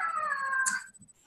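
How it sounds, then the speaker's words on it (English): A house cat lets out one long, drawn-out meow close to the microphone during an online teaching hangout call, fading into quiet with a few faint soft sounds after. "And that's my cat."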